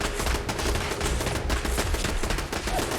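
Rapid bursts of laser turret fire in the video game Fallout 4, dense and loud, crackling continuously and close with no talking.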